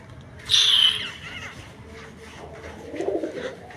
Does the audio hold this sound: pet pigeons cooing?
yes